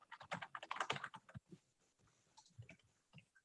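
Computer keyboard typing during a downtown committee meeting, a quick run of close, busy key clicks that thins into sparser taps, alone with no voices.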